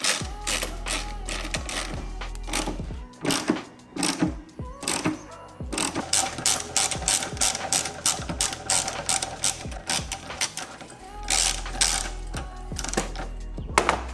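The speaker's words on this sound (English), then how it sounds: "I'm just going to sit this bracket in place and actually tighten them up." Close, loud ratchet clicking in quick bursts as airbox mounting brackets are tightened on a 2021 LC motorcycle during a custom airbox install in a workshop, with brief pauses between runs of sharp ratcheting.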